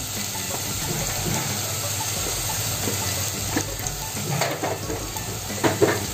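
Softened onion frying in a pan as turmeric goes in, a steady close sizzle with light stirring scrapes and small clinks near the end, no one speaking.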